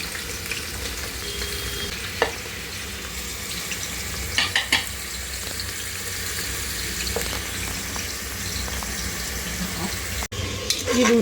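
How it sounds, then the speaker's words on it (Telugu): Onions, curry leaves and green chillies fry in a pan with a steady loud sizzle, broken by a few sharp clinks and stirring scrapes. "ఇది ఉల్లిపాయలు వేగేదాకా వేపుకోవాలండి. బాగా కొంచెం కలర్ వచ్చేదాకా కొంచెం వేపుకోవాలి."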